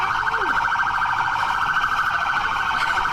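A police siren wails continuously at close range, loud and steady with a slight wavering pitch.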